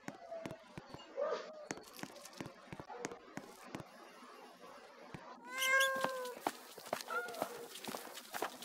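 A cat meows several times nearby, a thin early cry then a louder drawn-out wavering meow and a shorter one, among scattered tapping footstep-like knocks.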